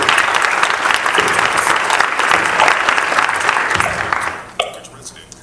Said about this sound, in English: Please give a warm round of applause to Mr.